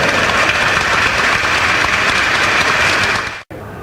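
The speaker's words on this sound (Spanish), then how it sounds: "Fuerte, fuerte el aplauso, por favor." Loud, dense applause from an audience at an event for Paraguay's national Guarania day, steady and continuous before cutting off abruptly near the end.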